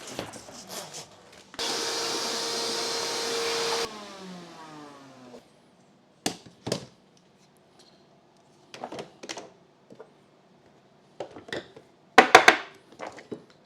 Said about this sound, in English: It's going to vacuum it up a bit